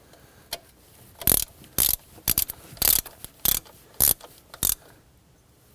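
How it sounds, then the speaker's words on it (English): A ratchet snugs down the thermostat housing bolts on a 2011-2015 Kia Sorento. Short, close bursts of rapid clicking repeat about eight times at a steady pace with brief pauses between them. "I'm just going to put my ratchet on there and gently snug them down"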